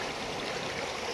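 A clear village river flowing over stones, a steady close rushing and gurgling of water with no talk.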